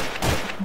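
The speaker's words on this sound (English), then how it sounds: "Someone shot at me." Gunfire in Garry's Mod, a video game: a short burst of shots in two clusters across under a second, fairly loud and close, with no talk over it.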